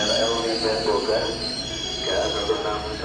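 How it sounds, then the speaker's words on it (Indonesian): A KRL commuter train bound for Bogor pulls into platform 3 at Tanah Abang station in Jakarta, with a loud, steady rail rumble and metallic wheel squeal throughout and voices murmuring underneath. "Sudah tiba KRL kita Bogor jalur 3."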